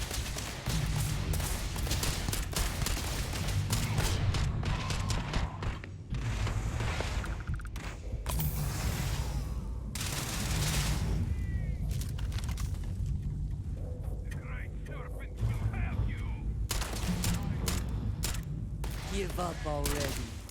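Rapid gunfire bursts in the Starfield video game, loud repeated volleys with short pauses between them and voices talking in between.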